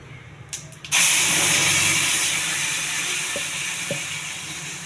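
Curry leaves, cumin, mustard seeds and urad dal hit hot oil for a tempering, starting with a few small taps before a sudden loud sizzle that stays steady and slowly eases, with faint pops.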